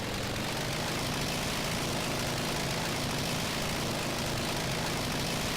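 A homemade sports car engine accelerates through the gears, a steady loud broadband drone with low rumble throughout, no talking.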